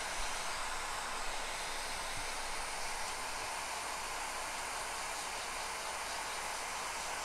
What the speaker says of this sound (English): we're just going to get our hot air station